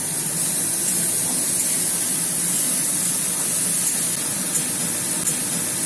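Potatoes fry lightly in a pan after water is added, giving a steady, close hiss and sizzle of steam that holds evenly throughout with no talking.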